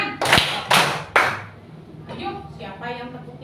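Children in a classroom clapping game give three loud, evenly spaced claps, followed by voices talking.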